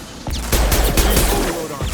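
Shotgun fire in Mass Effect 2: a rapid burst of loud, close blasts crowding together over a couple of seconds with sharp cracks and rumble, no voices.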